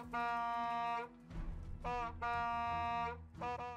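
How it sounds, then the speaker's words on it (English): Vuvuzela horn reward sound in Call of Duty Modern Warfare, a loud, buzzy sustained blast followed by two shorter honks, each a rich harmonic drone with no voices. "You get the Vuvuzela horn for the silver medal, which sounds like this."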